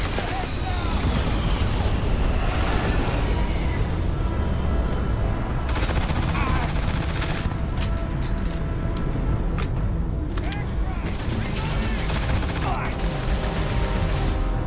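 Dense gunfire rattles through a Starfield firefight as an enemy shoots back, loud bursts of automatic fire and blasts filling the scene with scattered game effects.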